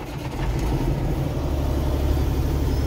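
Engine of a CL9000 under restoration running at a steady idle in neutral, a close, continuous low rumble with an even mid-range drone, no voices.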